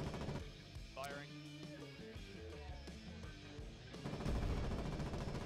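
Artillery fire in the war game Foxhole, rattling gunfire and booming blasts at a distance beneath talking voices and tonal game sounds, growing heavier toward the end.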